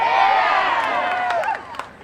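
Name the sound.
crowd applause and cheering at a parade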